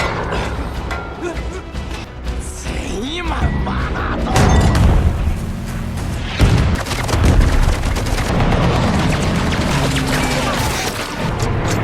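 A bomb blast destroys a bridge in a war film, with heavy booms, crashes and gunfire-like bursts rolling loudly through the scene alongside music and speech.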